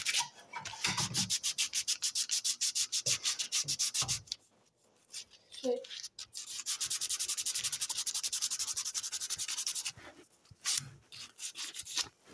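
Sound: sanding a wood carving

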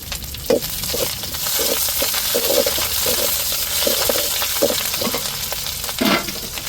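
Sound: curry leaves sizzling in hot oil for fish puttu

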